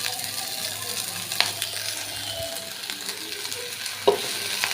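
Green chillies frying in a little oil, a soft steady sizzle with a couple of faint metallic taps, quiet and close.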